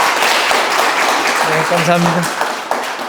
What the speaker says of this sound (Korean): 수고했다고 박수부터 좀 보내주십시오